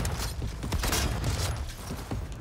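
Shotgun being reloaded in the video game Cyberpunk 2077, a dense run of mechanical clicks and clacks over a steady game soundscape, with shells and action working in quick succession.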